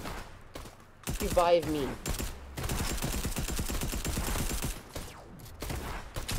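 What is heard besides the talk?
gunfire and grenades in Fortnite video game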